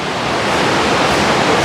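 Water rushes steadily through the Aareschlucht river gorge near Meiringen, Switzerland, with a waterfall ahead, a loud, continuous broadband roar with no pauses.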